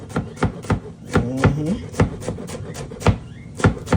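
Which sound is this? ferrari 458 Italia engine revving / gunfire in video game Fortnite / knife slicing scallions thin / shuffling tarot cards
knife slicing scallions thin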